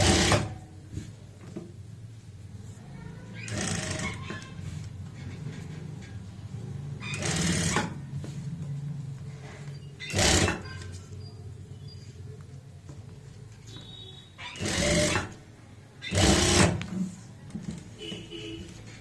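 A sewing machine stitches a kameez neckline in several short, separate bursts spread across the stretch, with quiet handling and fabric rustle in the pauses.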